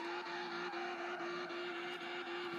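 A steady engine whine holds at a sustained pitch with a faint tire scrub, continuous and moderately quiet, like a Lotus car doing donuts in the racing video game Assoluto Racing.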